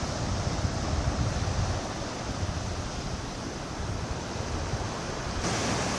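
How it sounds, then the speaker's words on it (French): Ocean waves break at Port Ouest on Réunion at dusk, a steady, loud wash of surf with a constant roar and no pauses. "il y a des vagues qui se soulèvent en l'air"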